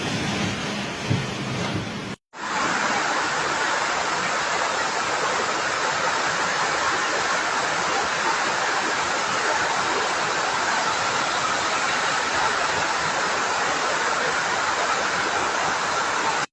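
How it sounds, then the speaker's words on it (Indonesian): Heavy rain and storm wind lash the Pakansari area of Cibinong, Bogor, a dense, steady roar of downpour that holds loud and unbroken after a brief cut near the start. "Pakansari hujan angin"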